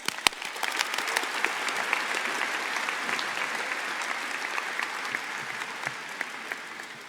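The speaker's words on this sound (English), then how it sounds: "And one last round of applause," A crowd at a school convocation applauds steadily with dense clapping that stays even throughout and fades slightly toward the end.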